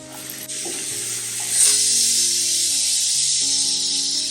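Chopped onion sizzles steadily in butter with cumin in a pan while pav bhaji is being made, a close, continuous frying hiss with faint clinks and a steady background hum.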